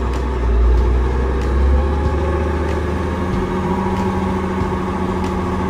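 Inside the cab, a tractor's engine drones at a steady low idle-like rumble while GPS autosteer guides it, a constant close hum with a slight swell early on and no talk.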